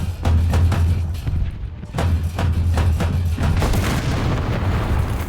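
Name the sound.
tank gunfire in War Thunder video game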